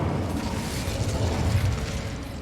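The Incendio fire spell in Hogwarts Legacy erupts as a dense, continuous roaring rush of flame with a deep rumble, loud and steady throughout with no talking.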